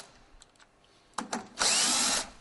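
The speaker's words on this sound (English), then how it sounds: "the locking screws are loosened" A power screwdriver loosens the locking screws on a Siemens BD2 125 A busbar tap-off unit, with a couple of brief light clicks and then one loud, close whirring burst lasting under a second.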